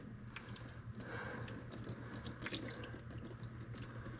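Fuel drains from the fuel system of a 1947 Ford 2N tractor into a drain pan, a close, steady trickle and splatter of liquid with small drips, no voices.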